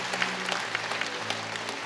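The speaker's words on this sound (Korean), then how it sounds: "여러분께 박수로 환영하시지요" A church congregation at a Sunday worship service claps in welcome, a dense, steady round of applause from many hands filling the room, with a faint sustained tone underneath.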